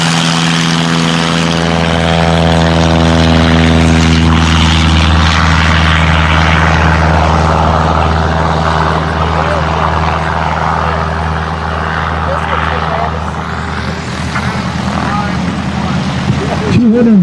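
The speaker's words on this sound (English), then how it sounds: "Notice that when the pilots take off, the first thing they do is lower the nose, lifting the tail into the air." A Super Cub airplane takes off during a short-field contest at the 2014 New Holstein Super Cub fly-in. Its loud, steady propeller engine drone fills the clip, close and continuous, with an announcer's voice carried over it.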